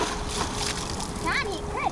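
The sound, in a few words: water splashing in a pool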